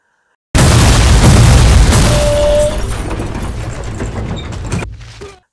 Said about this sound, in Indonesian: Hingga ketiga mobil tersebut menjadi meledak.